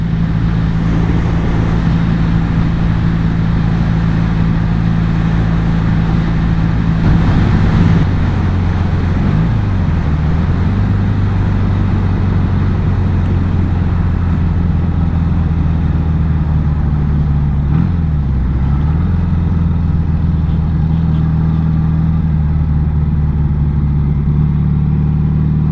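A vintage Matchless G12 CSR British motorcycle cruises at about 60 mph, its engine a loud, steady drone mixed with wind rush, dipping briefly twice as the pitch shifts.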